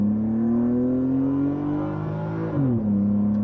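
A 1998 Nissan Skyline R34 25GT automatic is heard from inside, its steady engine drone rising slowly, then dipping sharply around a kickdown as it changes down a gear and settles to a held, higher rev hum.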